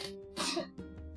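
A single sneeze bursts out indoors at a tabletop role-playing game session, a short sharp explosive exhalation over a faint background hum, quickly followed by a softer breathy sound.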